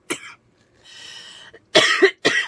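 Several sharp coughs up close, one then a pair, separated by a soft breathy wheeze in between.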